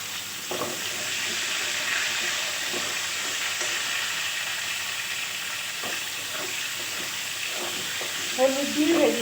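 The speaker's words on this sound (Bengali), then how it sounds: "প্রথমে আমি ফোড়ন দিয়ে দিলাম 5 ফোড়ন। সবজিগুলোকে আমি একটু ভেজে নিচ্ছি।" Vegetables frying in hot oil with a panch phoron tempering, a steady loud sizzle running throughout, with a few soft stirring clinks and a louder spattering burst near the end.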